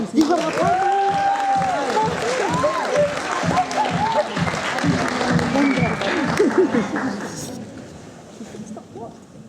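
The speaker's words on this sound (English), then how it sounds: "please give a huge round of applause for Caven Cucumber." A school audience applauds a student speaker at a public speaking event, a dense, loud wash of many clapping hands mixed with cheers and chattering voices, fading toward the end.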